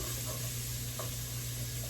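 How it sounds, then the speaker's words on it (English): Onion and bacon sizzle in a pot for chili while being stirred, a steady close frying hiss with a faint scrape of the spoon, no voices. "Stir those together for a couple of minutes till our onion starts to turn translucent."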